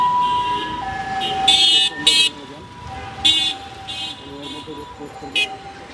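An ambulance siren wails steadily nearby in traffic, punctuated by several short, loud horn toots.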